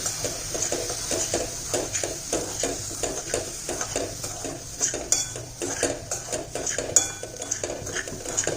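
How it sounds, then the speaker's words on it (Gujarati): Raw peanuts stirred through hot salt in a pan on medium flame, a steady rhythmic scraping and rattling of grains against metal, close and continuous with small clinks, no talk. "એમાં આપણે દાણા એડ કરી દઈશું અને કન્ટિન્યુઅસલી હલાવતા રહીશું।"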